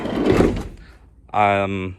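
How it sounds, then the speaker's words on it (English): A campervan door with a broken outside handle is opened from inside: a short muffled mechanical rattle follows a voice, then a brief loud hum-like scrape as the door moves, close and clear. "The outside door handle is broken, so we gotta open it from the inside."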